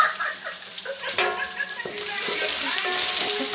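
Garlic and onion sautéing in a pan for pork sinigang, a soft steady sizzle that builds and brightens toward the end, with clinks and scattered chirping or clucking sounds from nearby birds in the room.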